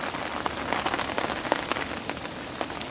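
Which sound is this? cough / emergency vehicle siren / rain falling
rain falling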